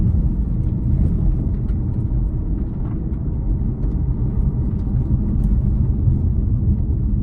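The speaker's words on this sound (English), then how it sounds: "I'm just driving on mountain roads, and it is a total treat." A 2020 Ford Shelby GT500 cruises along mountain roads, its engine a loud, constant low rumble from inside the cabin with no pauses or gear changes standing out.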